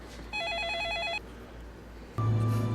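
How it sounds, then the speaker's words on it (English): A telephone rings in a two-part electronic trill, a clear burst of ringing that stops, then a louder, different tone cuts in, with no talking. "Oh, got a phone call here."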